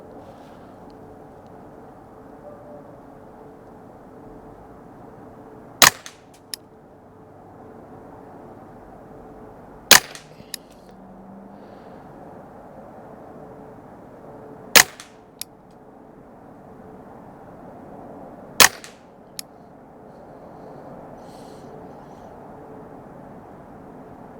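Four sharp rifle cracks from an EABCO-barreled Ruger 10/22 firing heavier, slower ammunition at a target, spaced several seconds apart with quiet outdoor background between them.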